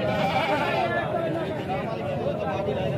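Goats bleat repeatedly at a busy livestock market where animals are sold ahead of Eid sacrifice, the calls blending into steady crowd chatter and background noise.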